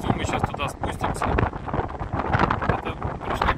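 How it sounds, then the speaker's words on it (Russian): A strong wind blows across the coast near the rock formations at Hopewell Rocks, New Brunswick, pounding the microphone with a continuous close, heavy buffeting rumble. Speech-like sounds are mixed into the roar. "Ветрюган дует сильный."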